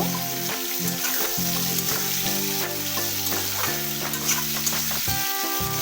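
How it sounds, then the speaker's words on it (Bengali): Raw banana pieces stirred and frying in a pan for shukto sizzle steadily, with scraping stirs and clinks scattered across the continuous hiss, close and moderately loud, with no speech. "কাঁচা কলার যে টুকরোগুলো রয়েছিল সেগুলো আমি অ্যাড করে দিলাম আবারও খুব ভালো করে নাড়াচাড়া করে নেব"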